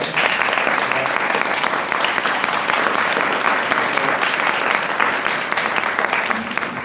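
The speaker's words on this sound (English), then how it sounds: "Give them a round of applause." An audience at a conference applauds the panelists, thick continuous clapping that stays loud and even throughout.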